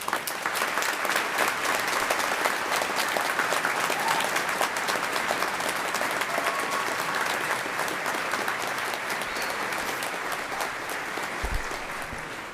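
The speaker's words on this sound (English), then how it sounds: "A round of applause, please." Sustained applause from a large crowd at a graduation ceremony, steady clapping throughout at a moderate level with no voices standing out.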